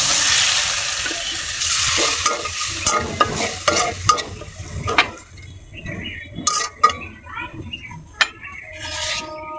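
Shing fish curry spices with chili powder fry in a pan, giving a steady sizzle under repeated scraping and clinking stirs.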